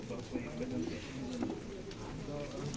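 Pigeons coo softly at an outdoor Kyiv flea market, a few low rounded calls rising over steady background murmur and distant voices.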